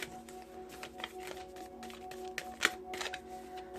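A deck of tarot cards is being shuffled by hand in a quiet room, giving soft, irregular riffling clicks and taps over a faint steady hum, fairly quiet and close.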